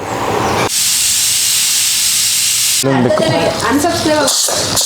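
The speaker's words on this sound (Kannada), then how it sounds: "ನೋಡಿ ಇವಾಗ ಕುಕ್ಕರ್ ವಿಷಲ್ ಇದೆ" Loud, piercing hiss of a pressure cooker whistle blasting continuously up close, then people talking loudly over the steam.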